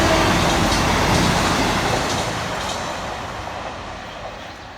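A cross-country Voyager train passes through Church Fenton station, a loud broadband roar of wheels and engine close by that slowly fades as it moves away.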